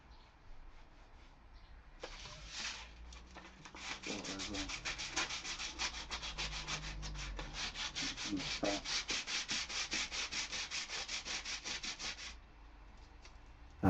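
Wood sanded by hand with cheap sandpaper on a first workbench build, near a knot: a brief scrape followed by a long run of quick, rhythmic back-and-forth rasping strokes, close and steady, with no talking.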